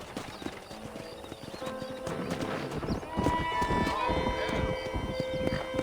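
Horses in the Western game Red Dead Redemption trot with steady clip-clop hooves and a whinny, over ambient game music with a rising siren-like tone and a voice speaking nearby.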